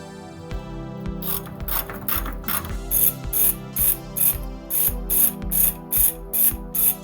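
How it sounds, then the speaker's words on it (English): A ratchet wrench unbolts the torque tubes on a 1987 Acura Integra, its clicking growing into a steady rhythmic series of loud ratcheting strokes, close up, with metallic rattles early on. "Next, we had to unbolt the torque tubes."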